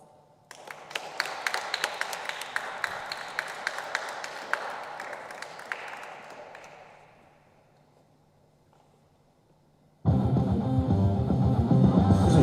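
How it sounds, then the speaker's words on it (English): An audience applauds a poet at a poetry event; clapping builds for several seconds, fades into near silence, then a loud burst of other sound cuts in abruptly. "Let's give him on a massive round of applause."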